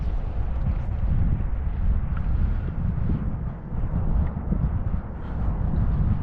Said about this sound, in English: The wind's giving me a fast drift right now.